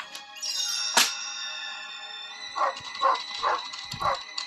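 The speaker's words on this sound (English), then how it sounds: "When Tramp heard Lady barking, he rushed back to her doghouse." A cartoon dog barks and yips several times in short bursts in a Lady and the Tramp read-along storybook recording, over a faint tonal backdrop, with one sharp thump early on.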